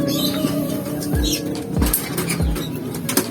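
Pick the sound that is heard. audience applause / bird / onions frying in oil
bird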